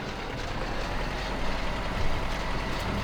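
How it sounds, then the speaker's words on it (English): A steady, dense engine drone from a small farm vehicle with a single-cylinder petrol engine in Farming Simulator 15, droning continuously and evenly at close range with slight swells and no talk. "It sounds like it's got a single cylinder petrol engine."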